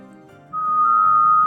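A person gives a sustained, clear whistle on one steady note while exhaling slowly in a breathing exercise, heard up close and alone after a soft breathy lead-in.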